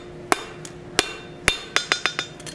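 A blacksmith hammers hot iron on an anvil while forging a curtain tie back: sharp metallic ringing strikes, a few spaced blows followed by a quicker run of hits, close and clear with no talking.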